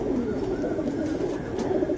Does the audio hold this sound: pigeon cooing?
yes